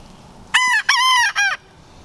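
A rooster crows nearby in a backyard vegetable garden where chickens are kept, one loud call broken into three clear segments over a quiet outdoor background.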